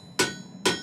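Cross peen hammer striking steel while shaping a firesteel, two sharp ringing metallic blows in quick succession, close and clear.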